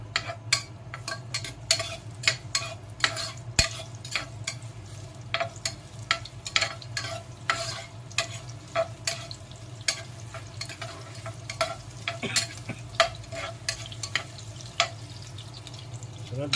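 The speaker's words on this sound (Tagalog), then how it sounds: "Lagyan na tayo ng mantika. Gisa natin ng sibuyas" Onions sautéing in cooking oil for native chicken tinola, a soft continuous sizzle under frequent sharp clicks and scrapes of a utensil stirring against the pan, close and fairly quiet throughout.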